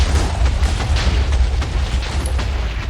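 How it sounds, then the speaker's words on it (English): Airstrike explosions in a Minecraft 1.21 TNT mode game roll on as a dense, continuous rumble of overlapping booms with heavy low-end weight, loud and close throughout, no talking. "Really an airstrike"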